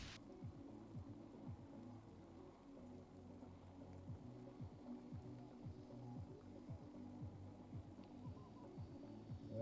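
Steady rain falls outdoors on an archery range during a youth competition in Catez, a dense close hiss of drops pattering on surfaces with faint low rumbles underneath and no voices.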